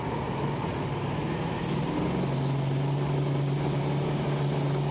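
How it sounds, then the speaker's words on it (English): A turbocharged car accelerating down a long straight, a loud continuous engine drone with road noise and a steady tone that settles as it shifts, no talking. "I'm losing a lot of boost, but once it gets up to speed and it shifts"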